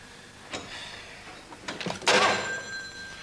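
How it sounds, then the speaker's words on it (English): A telephone bell rings in an indoor drama scene, with a few soft knocks and bumps first and then a loud bright ring at the end, and no talking over it. "Come on, answer the phone."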